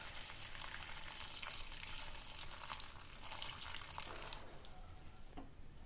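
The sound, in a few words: pouring black chickpea cooking water into curry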